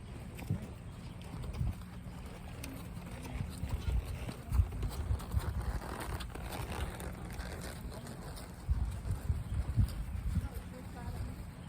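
Hooves clip-clop on hard ground at a steady working pace, mid-distance, with scattered voices and low rumble throughout.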